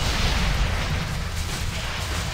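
Gunfire in the tower-defense shooter Sanctum 2 makes a dense, loud, continuous roar of overlapping shots and blasts with no clear gaps.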